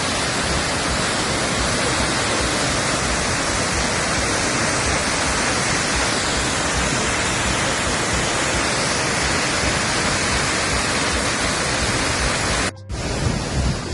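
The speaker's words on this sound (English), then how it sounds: "Vantage point of the Bridal Veil Falls." A loud, steady rush of falling water from Bridal Veil Falls near Skagway, Alaska, roars without pause, close by, before abruptly cutting out near the end.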